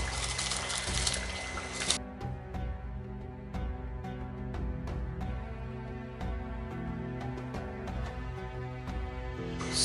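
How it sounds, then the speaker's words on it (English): A steady wash of bubbling, boiling water in a pot as rice goes in for Iranian dill rice, with a brief hiss at the start and soft clinks and splashes throughout. "So you can see the water is boiled, so we'll add rice in it."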